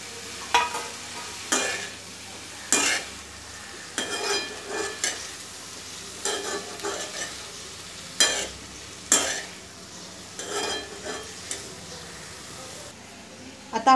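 Shredded cabbage is stir-fried in a pan for a simple Konkani-style vegetable dish. A low, steady sizzle runs throughout, broken by regular scraping stirs of a spatula, each a short rasp.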